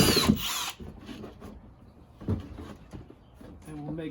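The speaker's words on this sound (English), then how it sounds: "So I've got a 13/16 inch bit, and we're just going to make a nice hole." Power drill with a 13/16 inch bit boring a drain hole in a worm bin, a short loud whine at the start followed by scraping and handling noises, with a person talking briefly near the end.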